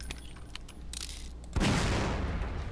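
A single gunshot from the Half-Life 2 mod Hellsound Dreams bursts out loud and sudden after quiet game ambience, its blast tailing off into a sustained rumbling wash.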